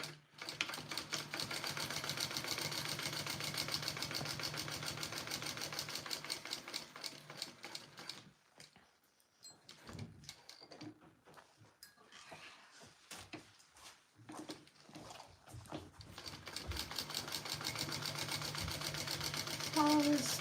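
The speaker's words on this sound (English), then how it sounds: "So I want to top stitch the side, the bottom, and the other side." A sewing machine top stitches along the side and bottom of a fabric sling, running in a long steady rattling stretch, pausing briefly while muffled voices talk, then resuming close and loud.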